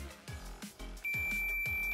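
A continuous high-pitched multimeter buzzer beep, in continuity mode while testing a plug's wires, starts partway through and holds steadily, over a rhythmic low thumping background.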